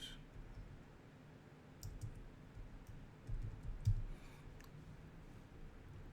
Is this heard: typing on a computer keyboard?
yes